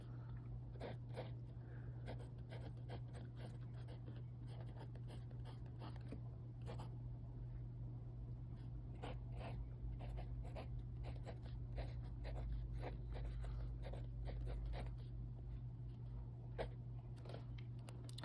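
A pen or pencil scratching faintly and steadily across paper while a math competition solution is worked out by hand, with soft irregular strokes and taps over a low steady hum.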